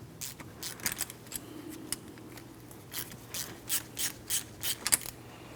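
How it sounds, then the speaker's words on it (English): A banjo bolt being unscrewed with pliers from a rear brake hose on a 2003-2007 Cadillac CTS, a close series of metallic ratcheting clicks and scraping turns, quiet in between. "I'll hold on to that while I unscrew the banjo bolt from it."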